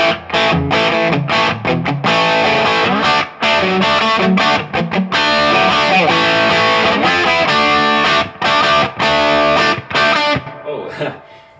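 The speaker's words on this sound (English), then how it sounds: "you can get some really sweet hard rock tones just by using a boost" An Ibanez RG570EX electric guitar played through a boost pedal for a hard rock tone, loud distorted chords and riffs with brief stops before ringing out and fading at the end.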